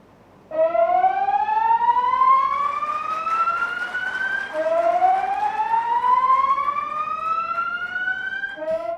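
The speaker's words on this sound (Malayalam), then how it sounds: "സൈറൺ മുഴക്കിക്കൊണ്ടാണ് കേരളത്തിന്റെ മുന്നറിയിപ്പ് സംവിധാനം മുഖ്യമന്ത്രി നാടിന് സമർപ്പിച്ചത്." A loud wailing civil defence disaster warning siren in Kerala rises steadily in pitch, cuts back, then climbs again, sounding alone and close.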